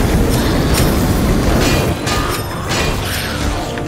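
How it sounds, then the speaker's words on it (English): Flamethrower roaring continuously as it burns zombies in a video game, a loud dense broadband rush with brief bursts and flares layered over rumbling game noise. "That's what I don't like about the flamethrower."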